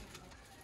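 A Salara pigeon coos faintly in a brief, quiet murmur, with a louder burst of sound at the very end.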